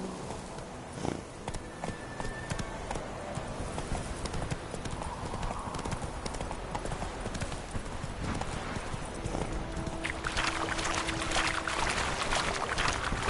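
Horse hooves clip-clop in a rapid, busy rhythm on a hard surface as the horse is urged on, close and steady throughout, with clatter and a brief faint voice mixed in.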